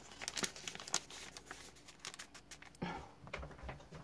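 Old shorthand paper is handled close by, giving faint, scattered crinkling and rustling with soft taps and a brief louder crumple partway through.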